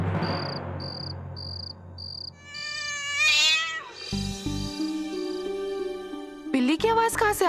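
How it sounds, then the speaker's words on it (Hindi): A cat meows repeatedly over a steady chirp of crickets and beeping, with background music and sound effects coming in partway through. "बिल्ली की आवाज कहां से आ रही है?"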